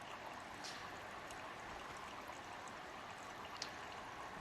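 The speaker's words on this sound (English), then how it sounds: "we're just letting that bottom layer of water drain out" Water drains from a separatory funnel during a steam distillation lab, a faint, steady trickling hiss that runs unbroken throughout.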